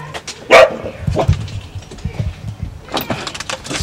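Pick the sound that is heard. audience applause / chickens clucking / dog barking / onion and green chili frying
dog barking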